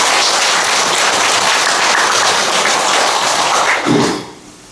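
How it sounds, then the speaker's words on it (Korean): Congregation at a Buddhist temple New Year prayer service breaks into sustained applause, a dense, even wash of many hands clapping that fills the room, then quickly dies away near the end. "큰 박수 한번 부탁드립니다"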